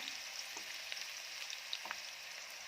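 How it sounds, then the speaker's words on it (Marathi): Finely chopped onion frying in plenty of oil in a kadhai, a faint steady hiss with a few soft stirring ticks, no speech. "छान रंग बदलेपर्यंत कांदा भाजून घेऊया."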